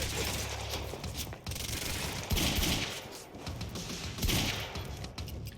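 Rapid bursts of automatic gunfire in a gunfight in the video game Quantum Break, loud sustained fusillades with clattering mechanical sounds between the shots.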